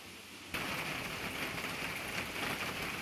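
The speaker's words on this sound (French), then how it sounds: "Je ne sais pas si vous entendez, mais il pleut, il pleut, il pleut." Rain begins abruptly and keeps up a dense, even hiss of drops striking a surface close by, steady and fairly loud throughout.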